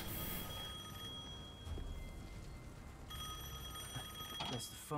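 An old telephone rings in Devil May Cry 5, a bright electronic trill that repeats in bursts over in-game ambience, with a short pause between rings.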